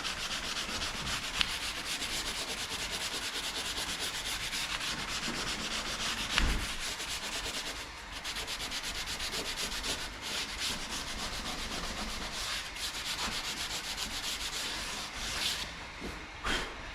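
Failing car paint being sanded off by hand with 320 grit sandpaper makes a continuous close scratchy rubbing with quick back-and-forth strokes. It carries on steadily for the whole stretch, with a few small knocks.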